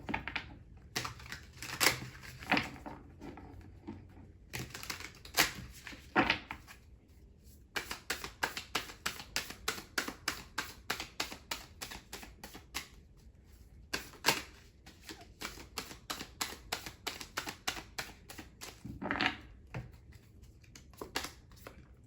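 A deck of tarot cards is handled at close range for a long stretch, with rapid riffling and shuffling in dense papery flurries, short pauses between bursts, and occasional single card snaps as cards are drawn, no talk.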